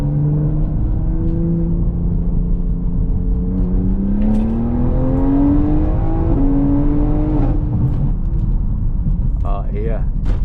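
BMW X3M SUV with a tuned engine and upgraded fuel pump accelerating hard on the street, its engine note climbing steadily through the revs over a continuous road roar, with people talking briefly near the end.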